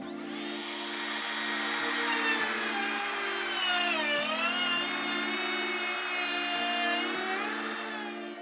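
A power tool cuts steadily into a scrap of plywood, its high whining tone bending in pitch as the blade loads and frees up, loud and continuous for about eight seconds with no talking.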